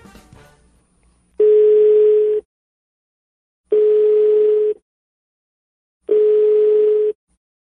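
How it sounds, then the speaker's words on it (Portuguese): A telephone line on a prank call gives three long steady tones separated by short silences, loud and clean, after a brief faint noise at the start and with no talk. "Vamos ligar para ela?"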